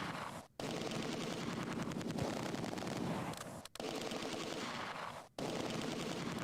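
Continuous machine gun fire in the Close Combat 2 video game rattles in long, dense bursts broken by a few short pauses.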